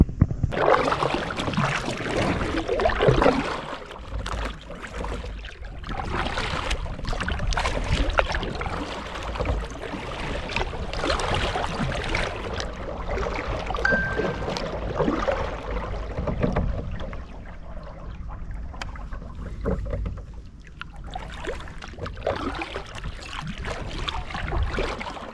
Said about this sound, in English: It's been a much needed paddle for me.